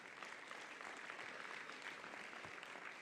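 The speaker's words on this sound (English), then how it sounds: "please clap." An audience at a town conversation on public health gives steady applause, heard faint and distant as an even patter of many hands for about three seconds with no break.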